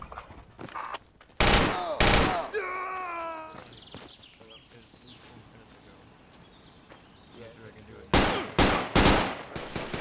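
Loud gunfire in Project Reality, with sharp repeated shots near the start and a rapid cluster of bursts near the end, separated by a quieter stretch of battlefield noise and game sounds.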